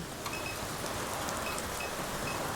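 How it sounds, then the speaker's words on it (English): Heavy rain in the video game NORCO, a steady, dense hiss that stays loud and unchanging throughout, with no voices. "This rain is really loud."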